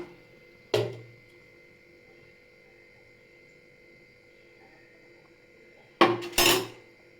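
A metal spoon clanks against a cooking pot while moong dal is stirred into okra pachadi, one sharp knock early on, then a quiet simmering lull, and then a quick pair of scraping clinks near the end.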